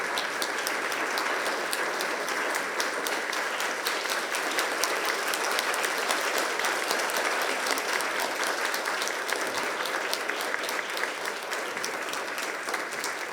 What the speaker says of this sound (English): once again, a big round of applause to Secretary Pompeo